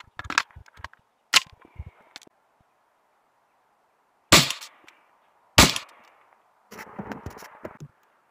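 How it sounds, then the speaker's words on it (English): A Valken M17 paintball marker fires 10 gram riot balls at a watermelon: several sharp, loud cracks, a cluster of quick shots early on and two more isolated bangs later, each followed by brief rattling impacts, with no talking. "I shot my cooler, 10 gram riot balls, shooting at the watermelon."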